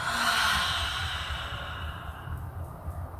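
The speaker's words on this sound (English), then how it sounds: "you can take a deep breath in and then exhale out through your mouth" A single deep breath drawn in and then let out through the mouth, close and fairly loud, a soft airy exhale that fades over a few seconds with no talking.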